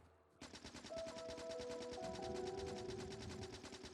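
Gun turrets in Factorio modded with Krastorio 2 fire a steady, rapid stream of shots, loud and unbroken after a brief quiet start, with no voices.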